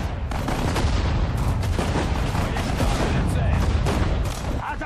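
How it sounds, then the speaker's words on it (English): Dense, continuous battlefield artillery and gunfire in the strategy game Sudden Strike 4, loud and close with overlapping booms and shots, and faint voices mixed in. "We've got artillery fire"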